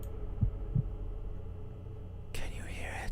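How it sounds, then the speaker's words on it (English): A low, soft double thump like a heartbeat pulses twice in a quiet room, faint and close, followed by a brief burst of breathy noise. "Why is there a heartbeat?"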